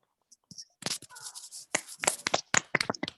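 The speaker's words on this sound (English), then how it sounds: "सारे बच्चे सिर्फ क्लैप करेंगे, कोई बोलेगा नहीं" Scattered, uneven claps from children on a Zoom class call, some sharp and others muffled through home microphones, with soft voices and whispers mixed in.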